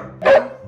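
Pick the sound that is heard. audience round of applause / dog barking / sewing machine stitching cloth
dog barking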